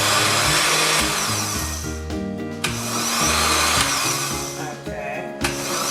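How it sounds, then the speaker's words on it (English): A blender pulse-chops peppers in short repeated bursts, the motor revving up and dropping off in a stop-start rhythm, loud and close with no talking. "I blended the other ones very smoothly, but this one I'm just gonna like pause and pause and pause"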